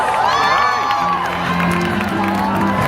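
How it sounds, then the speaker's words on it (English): A crowd cheers and whoops on a windy New York City street, with scattered clapping and shouting voices, loud and close, over continuous street noise and chatter. "Good to have a couple of rounds of applause"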